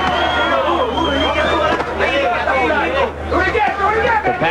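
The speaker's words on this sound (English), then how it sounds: "Capacity crowd here in Saint-Tropez." A capacity crowd at a boxing match in Saint-Tropez murmurs with steady, indistinct babble that fills the arena throughout.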